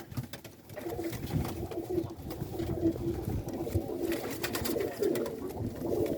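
Pigeons coo continuously in a loft, a soft layered throbbing of several birds close by, with no talking.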